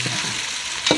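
Masala spices being stirred in a frying pan, giving a steady sizzle with a short scraping stir near the end.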